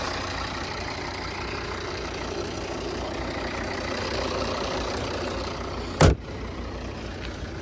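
A 2012 Volvo V50 D3 diesel engine with Aisin automatic idles steadily nearby with a low, even rumble, interrupted by one brief sharp knock near the end.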